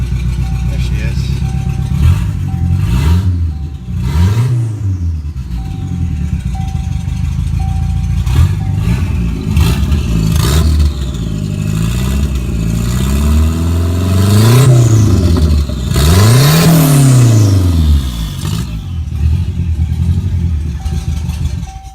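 A Ford Turbo Coupe with an open downpipe and its intercooler popping off revs hard again and again, loud and close, each blip rising and falling over a raspy idle, while people talk over it.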